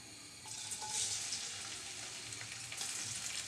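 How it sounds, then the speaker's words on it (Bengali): A large chopped onion tipped into hot oil for a cauliflower-stem stir-fry bursts into a bright, close sizzle that holds steady and fairly loud throughout, with no voices over it. "পরিমাণ মতো তেল গরম করে নিয়েছি দিয়ে দিচ্ছি একটা বড় সাইজের পেঁয়াজ কুচি"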